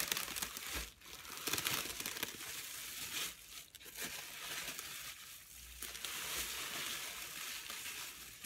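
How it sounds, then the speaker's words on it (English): A jelly roll of freshly dyed cotton fabric is unwrapped, with repeated crinkling and rustling of wrapping, bursts of handling noise separated by brief lulls, close by and without talk. "So we're gonna unwrap this beautiful jelly roll."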